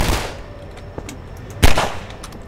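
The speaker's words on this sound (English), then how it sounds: "He's shooting at me now." Enemy gunfire in Half-Life 2, a few loud, sharp shots with the heaviest burst near the end, under a steady background hum of game ambience.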